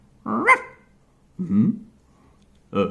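A voice imitates a dog, giving three separate close, gruff barks spaced about a second apart with short silences between, during a French reading of a comic book.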